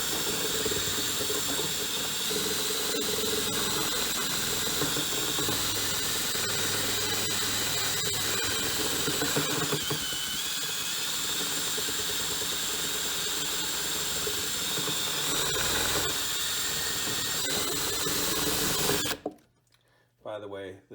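DeWalt brushless 22-volt cordless drill with a 5 amp battery, used while removing popcorn ceiling texture, whines steadily and loudly close by for about nineteen seconds before stopping abruptly.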